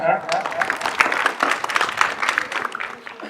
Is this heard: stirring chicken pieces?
no